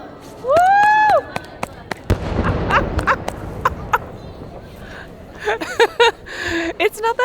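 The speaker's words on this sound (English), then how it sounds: "It's not that often that you get new fireworks" New fireworks burst at a Japanese night festival in Chichibu, a string of sharp pops and crackles between whistling launches, with excited voices and cheering mixed in close by.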